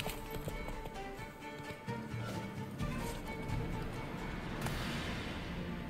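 Horse hooves clip-clopping in The Witcher 3 on PS5, a steady rhythmic patter sitting under a dense, busy game soundscape at moderate level.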